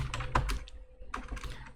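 Keys clack on a computer keyboard in a quick, uneven run of close, fairly quiet taps with a brief pause in the middle, and no voices.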